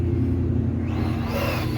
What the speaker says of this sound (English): Sounds like a Cobra SVT